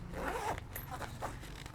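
A zipper sliding along the pouch of a camera backpack, one quick close zip followed by a couple of short scraping pulls, quiet and alone.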